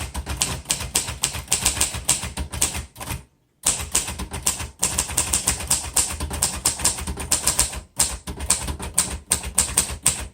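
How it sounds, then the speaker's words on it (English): Rapid typing on a 1949 Royal Arrow portable typewriter with glass keys, dense crisp key strikes in quick bursts, a couple of short pauses, close and loud with no talking. "this is a traveling typewriter"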